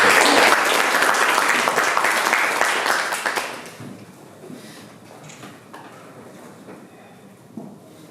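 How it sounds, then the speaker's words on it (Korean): Audience applause welcoming a speaker at a Korean forum session on food and agriculture, dense clapping filling the room for about three seconds, then fading to quiet room murmur. "큰 박수로 남재작 소장님을 모시겠습니다"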